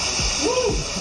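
A person jumping off a waterfall in the Dominican Republic hits the water with a single short splash, heard close over the steady rush of falling water.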